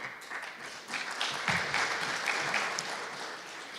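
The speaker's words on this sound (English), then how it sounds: "So claps to that." An audience at an LPG summit applauds with a steady wash of many hands clapping that holds for several seconds at an even level, heard from within a large hall.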